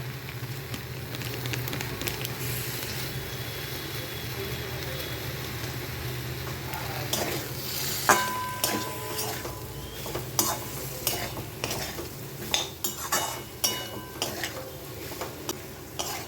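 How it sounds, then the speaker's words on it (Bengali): A spoon stirs soya chunks, pointed gourd and potato with meat masala and spices in a pan, scraping and clinking against the metal over a soft sizzle, with sharper taps building toward the end. "পটল সয়াবিন আলু মশলার সঙ্গে ভালোভাবে মিলিয়ে নেওয়া হয়ে গেছে"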